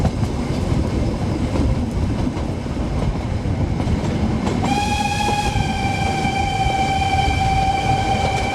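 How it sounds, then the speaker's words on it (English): A Nilgiri Mountain Railway locomotive in India sounds a long steady whistle partway through, loud and close, over the continuous rumble and clatter of the train running downhill after the rack section. "The locomotive driver whistles extensively"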